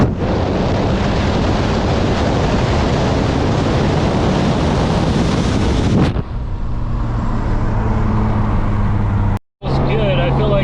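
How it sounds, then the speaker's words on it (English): A Nissan Skyline with an RB26DETT engine makes a hard third gear pull, with a loud, roaring rush of engine and wind noise that cuts off abruptly, followed by a quieter steady drone. "So let's go take her for a rip and see how she does. Third gear pull."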